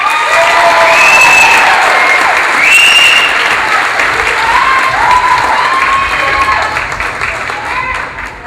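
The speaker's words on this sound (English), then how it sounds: "How about one more round of applause as these ladies go back to change for the first stage" Loud, sustained audience applause with scattered cheers and whoops at a Mrs Oregon America pageant as contestants leave the stage, the clapping holding strong throughout and fading slightly at the end.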